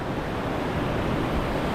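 Rushing water of Vattathil waterfall, a dense, unbroken roar that stays steady and loud, with no voices over it.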